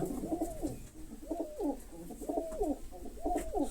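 Girebaz pigeons coo in a repeating rhythm, four soft rolling phrases at a steady pace, fairly close with quiet background.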